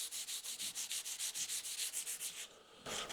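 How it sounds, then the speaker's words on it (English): Steady back-and-forth sanding strokes rasp against an oak toilet door for a sailboat in a quick, even rhythm, pausing briefly near the end before resuming. "So let's do some sanding"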